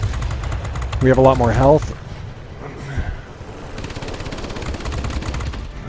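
Aircraft guns firing in the IL-2 combat flight game, a rapid rattling burst of automatic fire mixed with engine drone, with someone talking over it.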